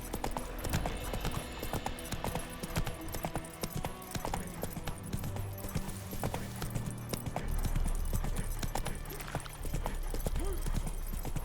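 Roach the horse in The Witcher 3 trots along with continuous, steady clip-clopping hooves over a busy game soundscape.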